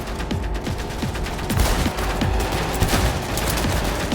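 Rapid bursts of video-game gunfire from Cyberpunk 2077 rattle through a steady battle din, shot after shot in quick uneven volleys, loud and close with no talking over it.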